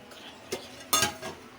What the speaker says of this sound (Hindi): अभी सिर्फ और सिर्फ हम इसको मिक्स करेंगे